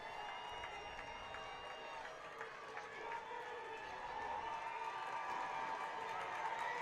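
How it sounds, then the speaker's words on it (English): A high school football crowd, including the student section, roars on a fourth-down play between Alabama Christian and Escambia County, a continuous distant rumble of cheering that swells toward the end. "Crowd's getting loud. Student section's getting fired up."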